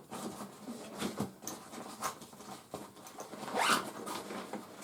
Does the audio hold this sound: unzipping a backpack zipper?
yes